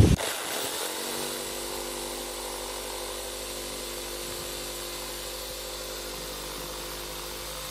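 A jigsaw with masking tape on its base cuts out a shape, giving a loud, steady, high buzzing drone that starts abruptly and runs without a break.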